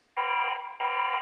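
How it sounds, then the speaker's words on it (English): Shed security alarm sounding loudly as a steady electronic tone, two sustained blasts with a brief dip between them, close and alone with no talk. "Otherwise, that will keep going off. That's the security alarm."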